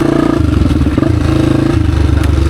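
An XR dirt bike engine chugs in third gear just above idle, a loud, close, steady low thrumming pulse with slight mechanical clatter and no voices over it.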